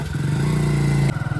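A motorcycle carrying three riders on a trip toward Darjeeling runs with a steady mid-pitched engine drone for about a second, then shifts abruptly into a rougher, pulsing note, close and loud.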